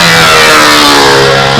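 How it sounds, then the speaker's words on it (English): A choked model airplane engine, thinned with Brodak fuel, sputters and spits back raw fuel. It runs loud and close with a steady high whine and a rough, uneven edge throughout. "What's happening here is the engine's spitting back every once in a while, and it's spitting back raw fuel."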